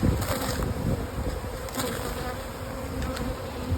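Honey bees buzzing steadily around nuc hives holding frames of bees, a dense, close hum with no talk over it.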